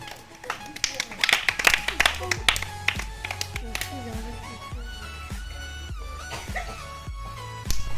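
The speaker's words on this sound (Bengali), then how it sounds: "মজার খেলা হাততালি সবাই হাততালি" Several people clap along at a lively biscuit-eating contest game, irregular claps mixed with music and a voice chanting over them, loud and close.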